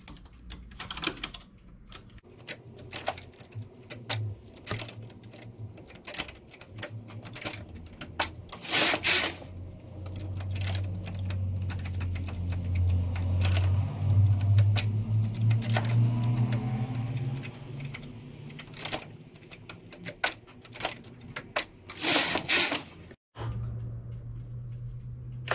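A knitting machine carriage runs back and forth across the needle bed knitting rows of a lace stitch, giving clattering, rattling strokes with sharp clicks and a low mechanical hum between passes.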